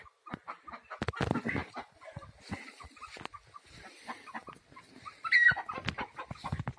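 Chickens cluck softly in short, scattered bursts nearby, with quiet rustling and a brief higher squawk in between.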